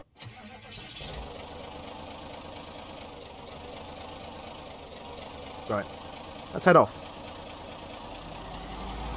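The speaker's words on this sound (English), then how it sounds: "Just the problem of how loud this engine is, it's ridiculous. It doesn't so much purr, it roars." A car engine in modded Project Zomboid, a loud, roaring engine, starts up and then runs with a steady low hum. Someone speaks briefly over it near the end.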